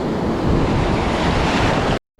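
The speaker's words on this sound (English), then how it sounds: "the crashing waves have moved way out there with the tide going back down" Ocean surf crashes on a beach in a loud, continuous roar of breaking waves with wind rushing across the microphone, then cuts off abruptly.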